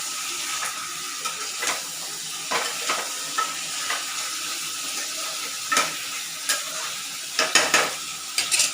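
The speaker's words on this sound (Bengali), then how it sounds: "এখন একটু কষাবো" Spices ground by hand on a grinding stone are sautéed in a pan, with a continuous frying hiss under repeated scraping strokes of the spatula that grow busier and louder toward the end.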